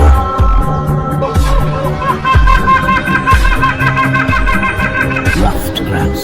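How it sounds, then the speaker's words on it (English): A helmeted hornbill calls in a loud, continuous run of pulsing hoots that build into a cackling, laugh-like sequence, dense with harmonics and layered over other tonal sound. "Helmeted hornbill."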